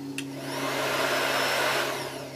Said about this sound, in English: first I should attach the hair dryer